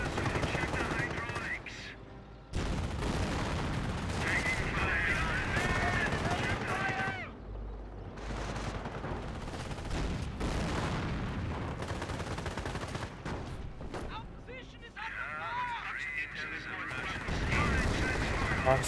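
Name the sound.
infantry gunfire in video game Company of Heroes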